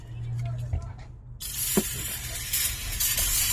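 Aerosol rust loosener sprayed onto a rusty car part, a sudden loud continuous hiss that starts after a quiet moment and runs to the end, with a brief clunk partway.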